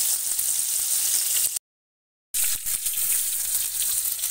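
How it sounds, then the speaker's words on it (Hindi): Fish frying in hot oil for a mustard fish curry, a steady close sizzle that cuts out briefly to silence, then resumes at the same level. "इसी तरह सारी मछलियों में फ्राई कर ले रही हूँ, बाकी की यहाँ पे फ्राई हो रही हैं।"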